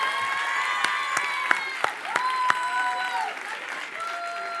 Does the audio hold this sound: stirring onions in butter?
no